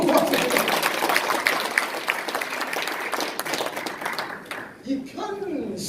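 A lecture audience in a small conference room of the National Assembly members' office building claps steadily for about four seconds, then the applause dies out and a voice begins speaking.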